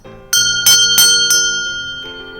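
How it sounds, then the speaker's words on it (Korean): Warm, bright bell strikes ring out as a news program opens, with four loud clear strikes in quick succession, each sustained in a shimmering ring, followed by a softer final tone as the resonance fades. "따뜻하고 아름다운 종소리, 우리 동네 뉴스다에서도 함께 울리면서 시작해 볼까요?"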